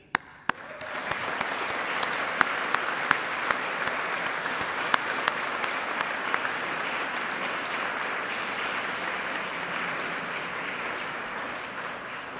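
An audience at a university awards ceremony bursts into sustained applause, dense even clapping from a large crowd in a hall, steady and unbroken throughout with no speech over it.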